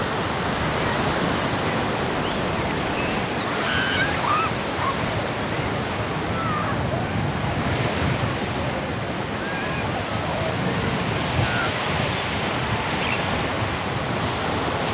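Surf rolls steadily onto a Gulf of Mexico beach, a continuous broadband wash of waves with wind, loud and unbroken throughout with no distinct break.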